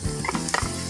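Garlic and beef sauté in a hot pan with a steady, close sizzle, broken by a few stirring scrapes and clinks across a short burst.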